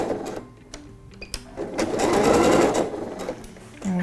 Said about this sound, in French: Et on va piquer du bas de la ligne de couture